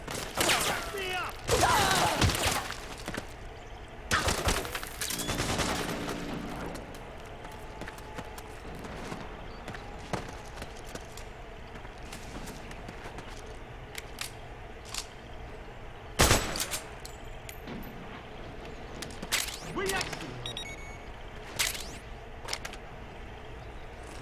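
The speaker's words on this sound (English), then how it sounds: "Fire! Suppressing fire!" Suppressing gunfire in a Metal Gear video game: scattered bursts and sharp shots, denser early then sparse, isolated cracks over a low steady background, with a loud report mid-way.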